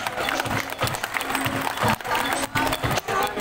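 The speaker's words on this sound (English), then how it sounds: "How about a round of applause for sea lion friends?" Show audience clapping for sea lions at a sea lion show, a busy patter of hands with some cheering, fairly near and steady for the few seconds.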